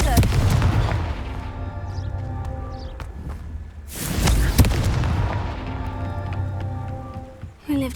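A Confringo fire spell explodes in the Hogwarts Legacy video game, a loud booming blast around the four-second mark with a crackling tail, amid steady rumbling game ambience and other thuds.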